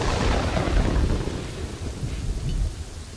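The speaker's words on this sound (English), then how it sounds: "these storms are not happy." Thunderstorm with steady heavy rain and rolling thunder in the city-building video game Kingdoms and Castles, a dense continuous roar throughout.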